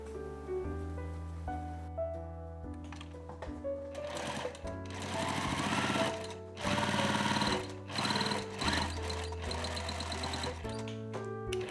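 A sewing machine runs in several bursts, stitching a blouse hem in coarse, long stitches in Liberty fabric, with rapid needle chatter over a low motor hum, separated by short pauses and accompanied by background music.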